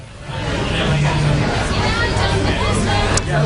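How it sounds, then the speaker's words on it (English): Campaign supporters at an election night party for a mayoral candidate at Sticky's, clapping and cheering as a dense, steady crowd roar with chatter mixed in throughout. "people are still clapping and cheering for Warwick Saban"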